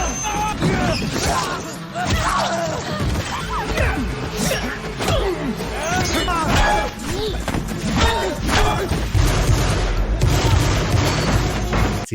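Chaotic film shootout with dense gunfire, booms and crashes layered over music and shouting, loud and continuous throughout.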